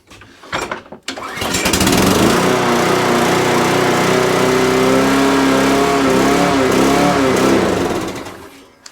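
A lawn mower's petrol engine revs hard and holds at high speed for several seconds, loud and close, after a few sputtering starts; the mower has a fault that keeps it over-revving.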